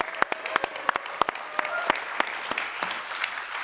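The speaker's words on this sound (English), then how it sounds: "I think we can clap for that." Scattered clapping from an audience, a few distinct sharp claps over a lighter patter, fading and thinning toward the end.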